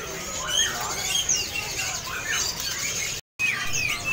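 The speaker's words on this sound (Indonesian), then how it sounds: "Ini ada burung nuri red lorinya ya." A tame red lory parrot squawks and squeals in sharp, high bursts at a busy bird market in Pramuka, Jakarta. The calls repeat close by over steady background noise, with a short silent break near the end.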